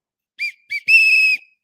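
A coach's whistle gives two short chirps and then one long, steady shrill blast, loud and close with nothing else behind it.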